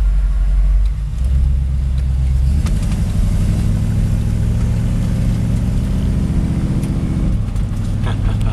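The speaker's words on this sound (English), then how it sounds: "I'm gonna head back to the hotel in this car and the first time driving in the highway." A 1963 Buick Wildcat driving on the highway, with a loud, steady low engine rumble and road drone inside the cabin that shifts pitch partway through as the car accelerates, with no talking.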